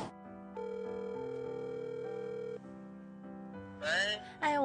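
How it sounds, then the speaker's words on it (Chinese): A telephone line gives steady electronic ringing tones before a television reporter's phone interview with a patient. A brief voice then cuts in at the end. "在出院后的第5天，我们电话采访到了宋先生。"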